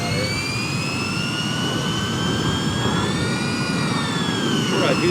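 A jet airliner's engines whine steadily while taxiing in a flight simulator, a loud sustained turbine hum with rising and slightly wavering high tones over a low rumble.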